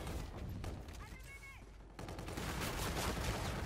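Continuous gunfire in Call of Duty, dense and steady throughout, with a brief dip partway and someone talking over it.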